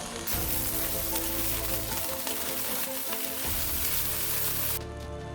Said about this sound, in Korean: 만들었던 베이스 소스를 넣고 바로 볶아주세요